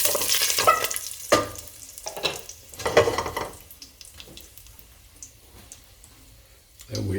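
Whole spices, cinnamon, green cardamom, cloves, star anise and curry leaves, hit hot oil in a pan, giving short bursts of sizzling and crackling that flare and then settle, with some stirring clatter and a voice speaking nearby.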